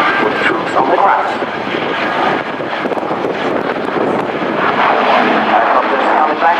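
A loud Super Puma transport helicopter roars overhead with rushing wind noise during a turn at the RIAT 2015 airshow, its engine droning steadily while a commentator talks over it.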